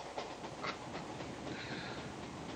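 Train rolling along rails in a 1984 Miller Light beer commercial, a steady broadband rumble with faint rhythmic clatter running the whole time at moderate level, no voices.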